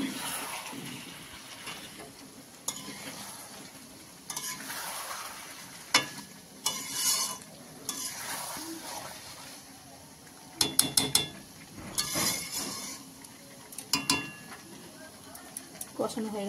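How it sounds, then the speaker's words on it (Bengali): Chicken with chopped tomato and capsicum stir-fried in a pan for a spicy red curry with potato, a steady sizzle broken by repeated sharp clinks and scrapes of a spatula, with a voice talking intermittently. "দিয়ে এবারে মাংসটাকে কষাবো বেশ খানিকক্ষণ।"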